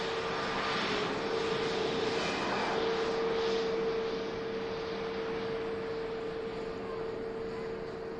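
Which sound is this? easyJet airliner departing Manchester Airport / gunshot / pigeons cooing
easyJet airliner departing Manchester Airport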